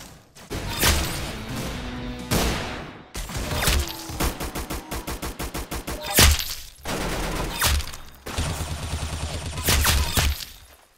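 Gunfire from the Roblox Arsenal game in competitive mode comes in loud, rapid bursts of automatic shots, sharp single blasts and crashing impacts that follow each other with short pauses.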